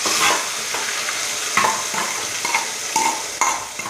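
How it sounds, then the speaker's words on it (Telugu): Paste fries in hot oil with cumin in a kadai, a dense crackling sizzle broken by repeated scraping stirs of a spoon against the pan, with no talking. "ఇప్పుడు మనం ఒక కడాయిలో నూనె తీసుకొని జీలకర్ర వేసుకోవాలి. వేసుకున్న తర్వాత అది బాగా వేగిన తర్వాత మనం ఈ పేస్ట్ వేసేసుకోవాలండి"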